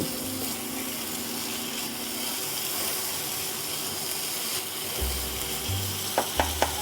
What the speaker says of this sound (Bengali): তাই আমি এটাকে ভেজে নিই।